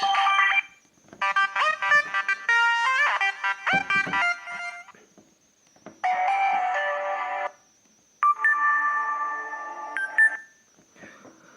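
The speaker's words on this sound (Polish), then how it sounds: "dźwięków naprawdę ma masę ten telefon, więc jest co wybierać na dzwonek" A Sony Ericsson W760i mobile phone plays several different ringtones in turn: bright electronic melodic phrases and synth tones, separated by short silences, clear and close with a faint steady whine beneath.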